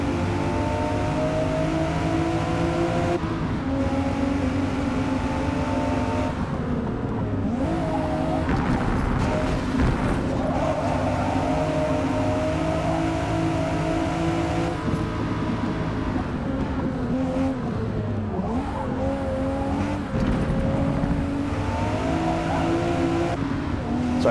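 Race cars in the Forza Motorsport 8 video game roar steadily throughout, engines droning with occasional tire squeal and skids as a close pack races by, with no talk.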